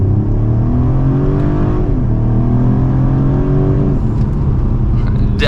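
A 2024 Mercedes-Benz CLE450 coupe accelerates hard from second gear, its engine note climbing steadily with a shift partway through, loud and continuous from inside the car.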